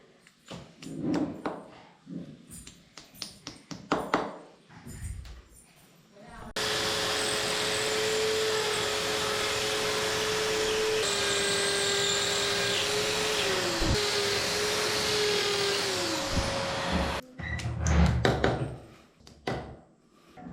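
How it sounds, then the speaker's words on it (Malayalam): A power drill bores a hole into a room wall while a vacuum held alongside sucks up the dust, a loud continuous whine lasting about ten seconds, with someone talking before and after it. "നമുക്ക് ഹോൾ ഇട്ട് കൊടുക്കാം. അതുപോലെ തന്നെ ബെഡ്റൂമിലേക്ക് പൊടി കയറാതിരിക്കാൻ നമുക്ക് വാക്കും കൂടെ പിടിച്ചു കൊടുക്കാം."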